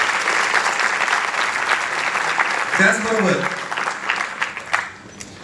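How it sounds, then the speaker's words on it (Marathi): Audience applause at a student felicitation event in Ahmednagar, a steady wash of many clapping hands lasting the whole stretch, loud and close, with a voice speaking over it partway through as the clapping tapers off. "ह्या सगळ्यांसाठी आपल्याकडनं टाळ्या झाल्या पाहिजे"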